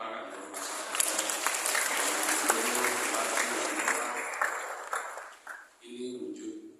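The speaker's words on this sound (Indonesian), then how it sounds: "Berkenan kita berikan tepuk tangan untuk pasangan calon." Audience applause for the candidate pairs at a three-pillar assembly for Lampung Province's simultaneous regional elections: dense, steady clapping from a large crowd for about five seconds, then fading into quieter room sound with brief voices.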